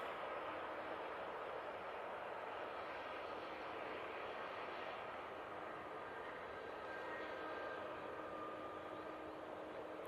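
An airliner on final approach to land at Manchester Airport, its engine roar steady and broadband throughout, fairly loud and continuous without any voices over it.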